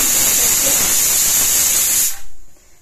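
Pressure cooker whistle loudly hissing out steam while peas cook in a home kitchen, a continuous bright jet that cuts off abruptly near the end, leaving near silence.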